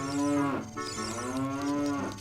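Cows in the video game Ocarina of Time give long, loud, drawn-out moos, two overlapping calls one after another, heard close with no talking.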